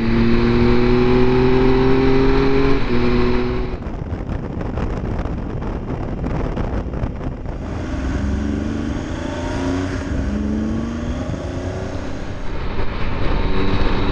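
A motorcycle engine drones while riding on an Alpine mountain route, its pitch rising and falling through gear changes, mixed with heavy wind rush on the microphone.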